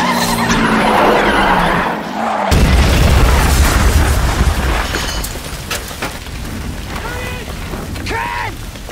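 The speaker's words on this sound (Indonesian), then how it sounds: "saat Ken melaju dengan kecepatan tinggi, rem mobil itu hilang" A car skids and crashes at high speed after its brakes fail, a loud screech of tires followed by a heavy impact, continuous crunching and a rumbling roar, set in a Ford v Ferrari racing scene.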